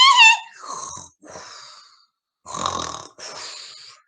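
A voice imitates a dog snoring with exaggerated wheezy, whistling snore sounds in a few drawn-out breaths separated by short pauses, close and clear with no other sound.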